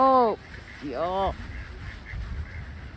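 A duck being fed on a windy October day gives two loud, nasal quacks in close succession. Faint wind noise and low background rumble follow.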